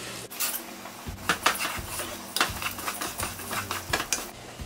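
Rice being stirred into vegetables in oil in a pot, a close, irregular series of scraping and clinking strokes from a spoon against the pot, with short bursts of sizzle between them and no talk.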